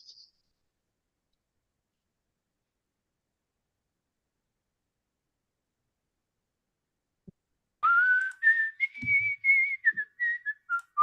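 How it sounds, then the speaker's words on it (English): A person whistles a short, loud, wavering melody of several notes after a long stretch of near silence, with a faint click just before. "Who was whistling?"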